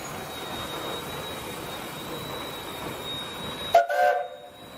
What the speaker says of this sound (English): The heart of every train enthusiast beats in time with this historical steam engine when the pride of Africa chugs into its home station